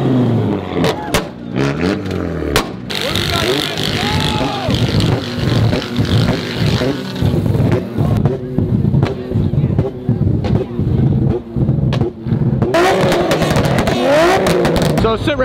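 Volkswagen truck engine revving hard during a burnout that sets the truck on fire, loud repeated roaring bursts and pops over a busy crowd with voices shouting throughout.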